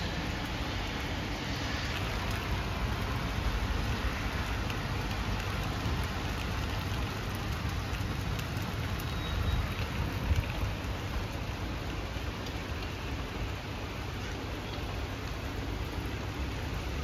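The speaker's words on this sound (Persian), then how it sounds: "از صبح تا حالا بارون شدید." Heavy rain pours down in an unbroken, even roar of drops for the whole stretch, loud and steady with no voices.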